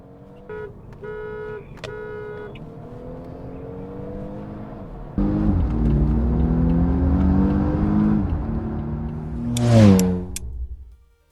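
A Volvo S60 with the T6 engine revs under throttle, idling steadily before the pitch climbs, then a stronger rise peaks and falls away near the end; loud and close, with a few short electronic beeps early on.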